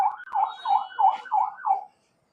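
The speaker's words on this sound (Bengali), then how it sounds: "এটা তো জরুরি সেবার হর্ন।" An emergency-style siren horn fitted to a private car wails in five rapid, evenly spaced rising-falling cycles, loud and close, then cuts off abruptly.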